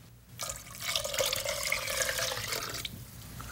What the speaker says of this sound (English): After it's drained, we add in some water, and then some beef broth